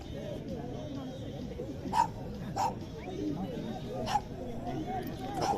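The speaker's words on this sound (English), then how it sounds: "A couple of dogs exchanging some words in front of us here" A couple of dogs bark back and forth at a rugby match, sharp barks and yips popping out a few times over steady crowd noise and a commentator's voice.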